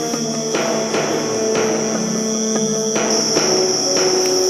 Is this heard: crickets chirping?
yes